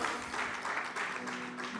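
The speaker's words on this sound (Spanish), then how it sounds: "Vamos a dar un aplauso a mi amigo Jorge Elías, oriundo de Ecuador." A church congregation applauds a guest preacher from Ecuador with a dense, even wash of clapping from a crowd, moderately distant and continuous for the whole stretch.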